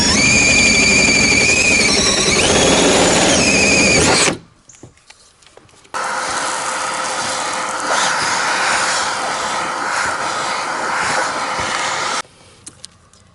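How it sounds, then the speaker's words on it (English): A power drill whines at high speed for a few seconds, stops, then after a pause runs again in a long steady grind, drilling through a car's metal roof. "of course your drill, and we're going to drill right on our center mark"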